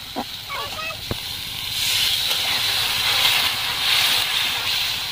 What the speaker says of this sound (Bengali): অল্প করে একটু জল দিয়ে দেবো মশলার মধ্যে, মশলাটা না হলে জ্বলে যাবে।